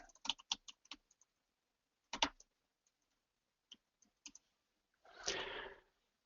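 Keys clatter on a computer keyboard in quick bursts, then sparse isolated taps, ending with a longer rustling sweep; quiet, close and with no voices.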